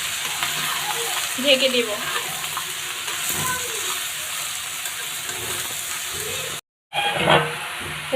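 Bottle gourd pieces with salt, dried chili and turmeric powder stirred in a hot pan, steady sizzling hiss with occasional scraping strokes of the spatula, close up, as someone speaks briefly near the end.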